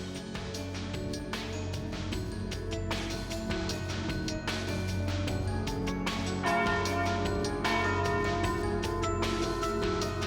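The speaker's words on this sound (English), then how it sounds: "And there's the noon bell." From the video game Trails through Daybreak, a town's noon bell rings with repeated resonant strikes whose long tones linger and overlap under a steady, fairly quiet background.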